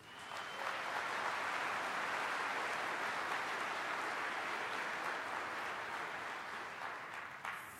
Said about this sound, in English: give a big warm, a big clap to the people of the EFF